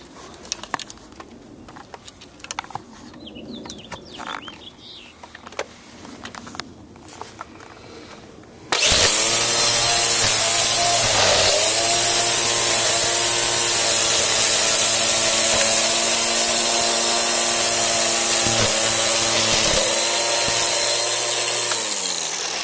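A string trimmer cutting the grass edges of a home lawn starts abruptly after a quiet stretch, then whines loud and close at a steady, sustained pitch for the rest of the span, with only brief dips.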